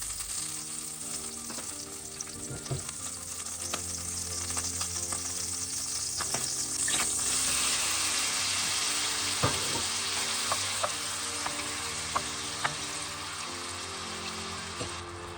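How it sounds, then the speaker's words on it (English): Prawns sizzle steadily in a pan of butter and a little olive oil, a loud continuous frying hiss with scattered pops and brief stirring clatters, no voices. "I prepared 2 spoons of butter and a little bit of olive oil and cooked the prawns for 2 to 3 minutes"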